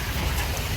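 Rain falls steadily outdoors as a dense, even hiss with a low rumbling undertone, continuous and fairly close, with no voices.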